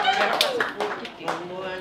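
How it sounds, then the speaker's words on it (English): Scattered hand claps from guests at a 21st birthday celebration, a short burst of applause mixed with voices talking nearby. "round of applause"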